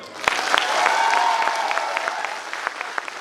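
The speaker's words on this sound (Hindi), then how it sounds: "तो ये उत्तम सर के लिए जरा एक बार दिल से ताली बजाओ।" An audience applauds warmly at a motivational speech event in India, steady clapping filling the room for a few seconds with scattered sharper claps standing out and a faint voice lingering underneath.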